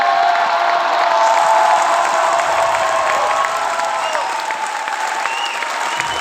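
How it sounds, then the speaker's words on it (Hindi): A standing audience at a success seminar in Galway gives loud, sustained applause mixed with crowd cheering, a dense, even wall of clapping that holds strong throughout, with faint whoops and voices inside it. "दोस्तों जोरदार तालियां खड़े होकर एक बार अपनी जगह के ऊपर"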